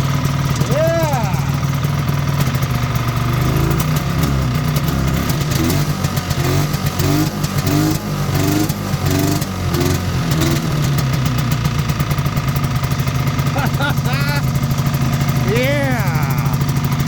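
A 1973 Ski-Doo 399 twin snowmobile engine idles steadily and loudly up close, a constant rough drone warming up, with brief voices talking over it.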